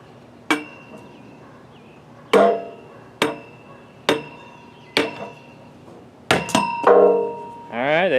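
A wooden stake made from recycled wood is hammered into the ground for a firewood rack, with sharp, ringing strikes spaced a second or so apart, then a quick cluster of blows near the end.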